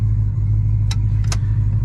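A drift car engine running on E85 idles rough and loud after a cold start, a deep steady rumble close by with a couple of brief higher clicks over it and no talking.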